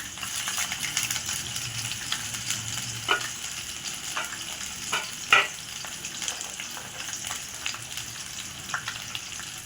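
A little oil heats and fries in a pan, giving a soft continuous sizzle broken by a few scattered pops and clicks of stirring.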